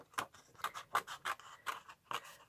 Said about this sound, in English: And I will just cut this out with my scissors here.